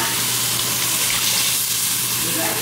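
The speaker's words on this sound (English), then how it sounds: "Now I'm gonna go ahead and add the cooking liquid, which is the beef stock, the bone broth." Beef bone broth stock hitting a hot pan for Japanese curry over the highest heat, giving a steady, loud, broadband sizzling hiss with bubbling steam throughout.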